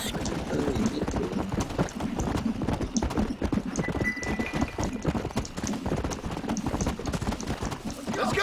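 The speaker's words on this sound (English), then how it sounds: "Porque hay caballo corriendo" Galloping horse hooves from the Red Dead Redemption video game, a dense continuous clip-clop running steadily throughout at a close, loud level, with bursts of voice or singing mixed in over the rhythm.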